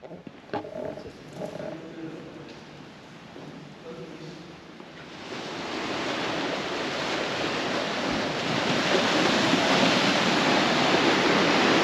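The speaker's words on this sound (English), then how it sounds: "Luckily the waves and the sea's not too rough today." The sea washes in on the tide at Cromer in calm conditions. The wash is faint at first and swells into a loud, continuous rushing roar, with a little wind noise over the microphone. No talk is heard.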